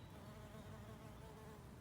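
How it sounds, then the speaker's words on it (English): A bee buzzes near a beehive in a garden, a continuous soft droning hum heard close with no talking. "Hopefully that's one of our bees"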